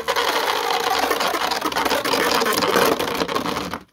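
A V8 car engine runs with a steady, loud, dense buzzing drone at close range that cuts off abruptly at the end, with no voices.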